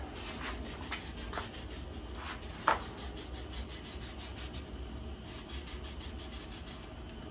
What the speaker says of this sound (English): Take a piece of sandpaper, roll on the inside of it.